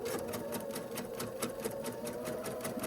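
A sewing machine runs a steady, fast stitching rhythm along the edge of a quilt block seam, a close, continuous mechanical chatter heard alone without voices.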